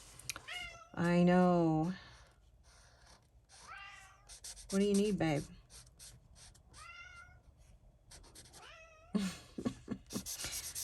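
A pet cat meows repeatedly in a home during a relaxed coloring session, several drawn-out, rising meows spaced across the moment, close and clear, with a person talking softly to it in between.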